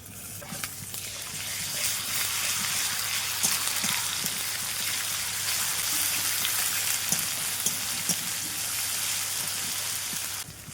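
Onions frying in a pan for jackfruit and prawn curry, a steady dense crackling sizzle throughout with scattered small pops, close and continuous with no talk.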